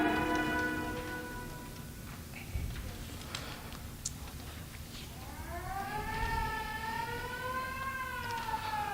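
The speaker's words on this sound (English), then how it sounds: "The sound of an ambulance wheeling into the receiving room below shatters your train of thought" An ambulance siren pulls into a hospital receiving room in a radio drama, its wail rising and falling loudly in the second half after softer tones and clicks.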